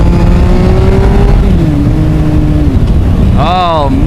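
A Triumph Sprint ST motorcycle engine drones loudly and steadily as the rider speeds along, then rises in a quick rev near the end, with wind rush throughout and a voice talking over it.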